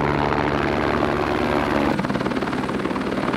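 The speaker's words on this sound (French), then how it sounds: "c'est clairement fait virer par l'hélicoptère" A helicopter flies over a snowy mountain slope, its rotor chop forming a loud, continuous, throbbing roar that shifts in pitch partway through as it passes overhead, with no voices heard.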